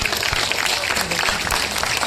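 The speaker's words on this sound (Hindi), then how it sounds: "एक बार जोरदार तालियां पूरी फैकल्टी के लिए, टीम के लिए, सर के लिए, मैम के लिए" Audience at an IIHMR Delhi college event applauding the faculty and team, a short burst of steady, dense clapping from a crowd, fairly loud with no other sounds on top.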